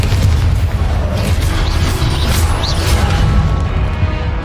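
Confringo blasting spell in a Hogwarts video game: a loud, sustained booming explosion rumble, heavy and close, with crackling debris and no talk over it.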